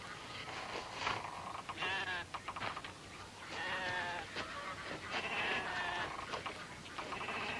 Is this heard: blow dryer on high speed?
no